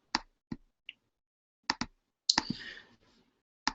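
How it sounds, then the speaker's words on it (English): Sharp computer mouse or keyboard clicks sound in a sparse, irregular series, a few single taps spread out with one longer rattling burst near the middle, close and fairly quiet, with no talking. "I'm sorry you hear a lot of clicking from my computer"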